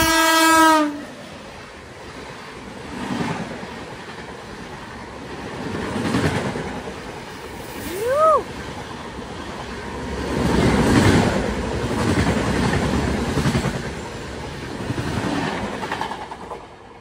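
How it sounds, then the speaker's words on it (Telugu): A WAP-7 electric locomotive train rushing past at high speed, opening with a loud horn blast, then a rising and falling roar of wheels and clatter in surging waves, heard from aboard another train, with a brief whistle-like squeal midway. "అక్కడ నుంచి ఏదో ట్రైన్ వస్తుంది, వ్యాప్ 7 స్పీడ్ మీద వస్తుంది"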